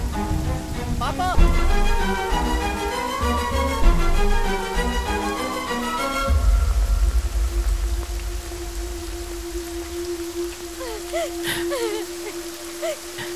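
Heavy stormy rain falls at night as a steady hiss beneath a swelling music score. The music fades midway, leaving the rain more exposed alongside a sustained tone, with faint voices briefly audible.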